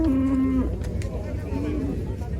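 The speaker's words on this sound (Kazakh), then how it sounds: "Барлығы ұрғашы баспақтар." Heifers at a busy livestock market, one low moo close by near the start and another fainter call later, over a background of crowd murmur and people talking.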